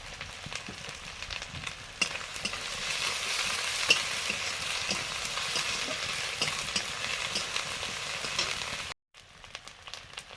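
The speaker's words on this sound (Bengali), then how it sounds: "কাশ্মীরি চিলি পাউডার, দিয়ে মশলাটা কষবো।" Spice paste with turmeric, hot chili powder and Kashmiri chili powder sizzles steadily in a pan, a dense close frying hiss with occasional stirring scrapes before it cuts out briefly near the end.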